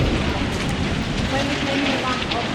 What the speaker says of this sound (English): You can hear the wind blowing through.